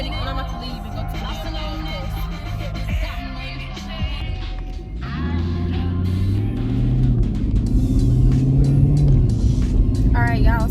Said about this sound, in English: I'm driving to the detailing shop right now